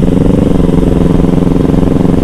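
A motorcycle fitted with a DX Generation Racing undertail twin-silencer exhaust, run without its dB killer, rumbles loudly and close by in a steady, evenly pulsing drone for the whole stretch.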